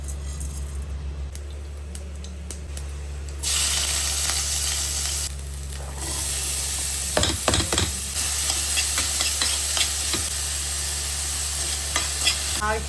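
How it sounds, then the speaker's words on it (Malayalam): Mustard seeds splutter in hot oil in a pan, a steady sizzle broken by sharp popping crackles that come in irregular bursts, close up with no talking. "എണ്ണ ഒഴിക്കുക, കടുക് പൊട്ടിക്കുക"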